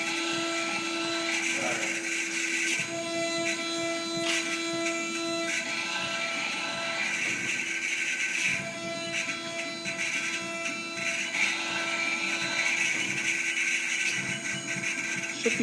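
A CNC mill cuts a hole in an aluminum gusset, giving a steady mechanical whine with sustained tonal hum whose pitch shifts as the cut progresses. The sound is continuous and close.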